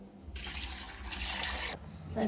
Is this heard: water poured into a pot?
yes